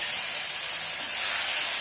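Tomato and ginger-spice paste hits hot oil in a pan while cooking potato dum, giving a loud, steady, close hissing sizzle with no talk.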